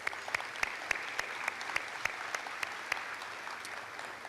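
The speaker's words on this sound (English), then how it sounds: "A round of applause if we can for them." Applause from a banquet audience at a Houma Terrebonne Chamber of Commerce dinner, a steady patter of many hands with distinct sharp claps standing out, fairly soft and heard from across the room.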